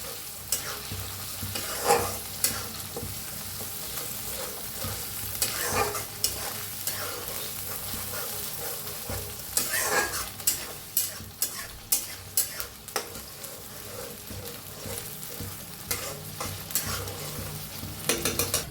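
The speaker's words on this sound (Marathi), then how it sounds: "ह्याच्यात होते पेस्ट भाजून घेऊया" A paste of green chili, garlic and curry leaves frying in a pan, sizzling steadily while a spoon scrapes and knocks against the pan in repeated strokes, growing busier toward the end.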